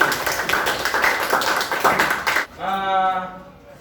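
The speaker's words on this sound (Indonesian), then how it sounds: "Mari kita berikan tepuk tangan untuk semua kelompok kali." A classroom of students claps together for all the groups, a dense burst of hand claps lasting a few seconds before breaking off into a voice.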